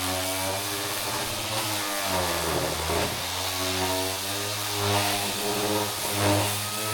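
A power sander works a wooden board smooth, giving a steady, droning motor whine with slight rises and dips in pitch, close and continuous with no speech.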